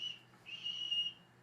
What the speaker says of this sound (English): she'd hear the train whistle going